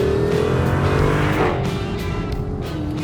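Close and loud, a 2023 Chrysler 300C V8 drives through canyons, its engine note rumbling and shifting as it accelerates and then eases off, with a faint tire squeal mixed into the drive.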